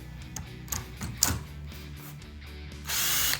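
Mechanical whirring and clicking from a power tool, with a steady buzzing hum and short bursts, ending in a louder continuous high whine.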